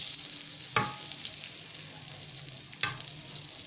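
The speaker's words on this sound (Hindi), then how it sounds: "ये मक्खन जो है दूसरी साइड पे भी लग जाएगा। इसको अच्छी तरीके से सेक लें।" A bun toasting in butter on a flat pan over very low heat gives a steady, soft sizzle. Two brief scrape or press sounds break it, one early and one near the end.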